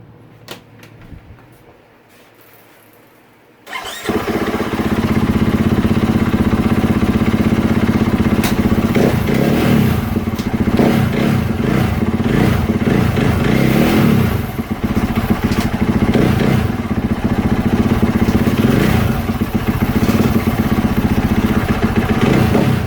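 A KTM 450 SX-F dirt bike engine starts up after some quiet handling noises and runs loudly and steadily nearby, with mechanical clunks and rattles over the idling rumble as it is put in gear with the clutch in.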